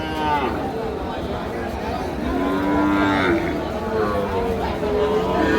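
Cattle moo repeatedly at a busy border-area livestock market, with long lowing calls rising over steady crowd chatter and nearby talk.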